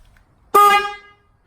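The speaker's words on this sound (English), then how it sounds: "So pick a horn you like for your bike. But let me just kind of sound this out just so you know what it sounds like." A loud aftermarket motorcycle horn blasts once, a single sharp honk lasting about half a second before it tapers off, heard on its own with no talking.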